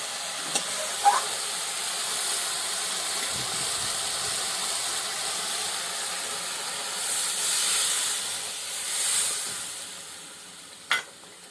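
Water poured into hot frying masala for an egg curry gives a steady broadband hiss and steam that swells twice toward the end, with a few light utensil taps and no talking.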